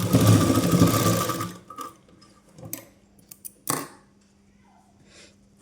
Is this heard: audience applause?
no